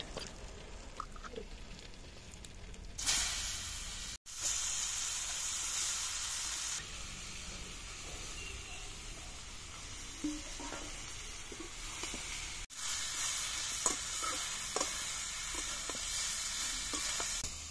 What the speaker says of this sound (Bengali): ওই মাছ ভাজার তেলেই কুচি রাখা লাউ দিয়ে দেবো।